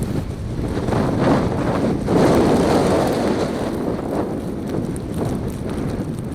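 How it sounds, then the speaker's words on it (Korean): Strong, steady gusting wind roars across an exposed snowy mountain ridge at Seonjaryeong near wind turbines, a broad continuous rush battering the microphone with surges and no voices. "풍력발전기 있는 곳부터 바람이 더 거세졌는데요. 걷기 힘들 정도 수준의 바람이 강하게 불었습니다."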